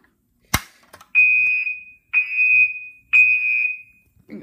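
A sharp bang, then a Gentex fire alarm horn blares three times in long, loud, steady buzzing blasts with short gaps between them.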